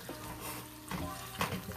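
Half a stick of butter and about half a cup of brown sugar cook in a pan, giving a soft bubbling sizzle with light stirring scrapes and a couple of brief clinks, close and steady.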